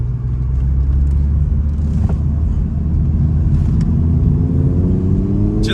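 An Audi R8 Spider accelerates while turning around at an intersection, a loud, close, continuous engine rumble that rises in pitch as the car pulls away.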